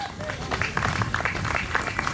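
Brief audience applause for Steve and Linnie, a moderate crowd clapping steadily with some crowd murmur mixed in.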